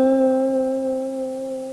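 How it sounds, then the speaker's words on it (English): A sustained blues guitar note held with a slow, even vibrato, its pitch gently wavering up and back down, clear and alone with steady sustain. "Now, to get a slow, even vibrato,"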